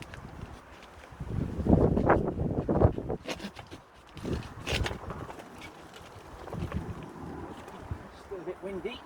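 Gusty outdoor wind in a UK garden in winter buffets and roars in uneven bursts near the microphone, rising and falling over about nine seconds while someone talks.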